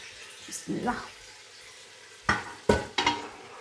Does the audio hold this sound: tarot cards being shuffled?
no